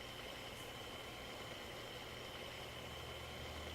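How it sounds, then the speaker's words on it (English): A truck engine running steadily in American Truck Simulator, a faint, continuous low idling drone with no talk over it. "Press the E key to stop the engine."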